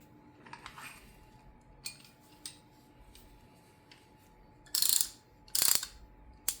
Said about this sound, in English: You might notice the tool doesn't want to actually ratchet.